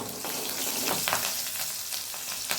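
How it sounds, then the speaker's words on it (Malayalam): Steady crackling sizzle of green chilli sautéing in hot oil, with occasional louder spits and pops, close by and continuous. "ഒരു പച്ചമുളക് അത് അതിനകത്തോട്ട് ഇട്ട് കൊടുക്കാം എന്നിട്ടൊന്ന് വഴറ്റി കൊടുക്കാം"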